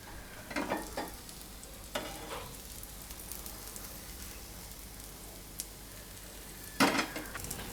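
Besan pudla batter cooking in a little oil on a pan over medium gas, a faint steady sizzle broken by a few short scraping spatula touches, no talking.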